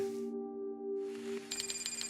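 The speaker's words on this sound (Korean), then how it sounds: "고객이 전화를 받지 않아 삐 소리" Unanswered phone call with steady ringback tones, then a brighter trilling ring pattern, close and clear with no one picking up.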